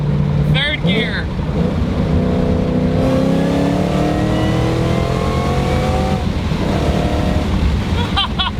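A 1000HP Shelby GT500 Mustang pulls hard in third gear, engine note and supercharger whine climbing steadily in pitch, loud and close, with brief voices at the start and end.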